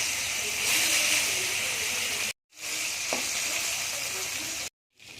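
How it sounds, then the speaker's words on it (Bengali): Rohu fish frying in mustard oil in a wok gives a loud, steady hiss and sizzle, broken twice by short silent gaps, with no talk. "এবার আমি পোনা মাছটা ভেজে নেবো রুই মাছটা"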